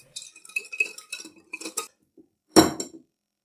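Spoon clinking and scraping in a bowl while a sauce of cornstarch, white vinegar and honey is stirred, in a string of light, close taps, followed by one louder clack near the end.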